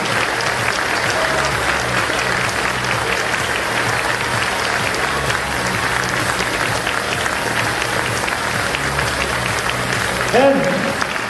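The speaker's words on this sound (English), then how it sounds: "So a big round of applause for Enrique, our production artist." A stage audience applauds, dense steady clapping from a large crowd filling the whole stretch at even loudness, with a brief voice near the end.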